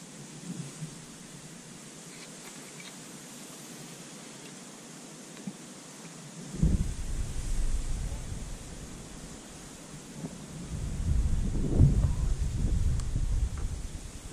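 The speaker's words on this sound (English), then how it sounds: "side wind's going left to right" Side wind gusting across an open fishing spot by the water, a steady broadband rush that swells louder partway through and stays strong to the end, with no voices.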